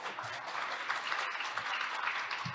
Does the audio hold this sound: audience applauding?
yes